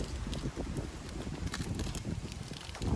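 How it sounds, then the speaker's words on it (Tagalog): Strong wind blowing outdoors at a day camp site at Marcis Point in Tanay, Rizal, a steady, loud rushing roar buffeting the microphone with constant low rumble throughout, without talk. "lumilipad siya kasi sobrang lakas ng hangin dito"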